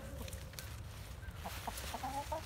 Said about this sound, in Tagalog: Nakaabang yung mga manok ko.